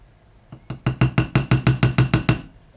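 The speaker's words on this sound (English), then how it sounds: "You can hear me hammering away here." Rapid series of about a dozen sharp metallic taps from a small hammer striking a domed punch on a Seiko chronograph watch part, evenly spaced and close, with no talking.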